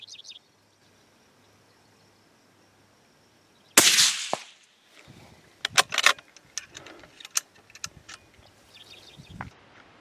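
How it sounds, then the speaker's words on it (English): A .222 caliber rifle fires one sharp, loud report out on open prairie, followed by a rattling echo and handling clicks, with faint birdsong before and after. "Shooting the 222 today."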